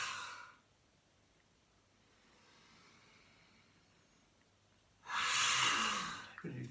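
Deep breathing during a yoga lion's posture: a soft exhale at the start, a quiet pause, then a long, loud forceful breath out near the end, close to the microphone.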